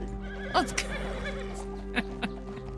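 A horse in a Western roleplay video game whinnies twice, once sharply near the start and again more briefly later, over a steady hum of game ambience with a short spoken phrase.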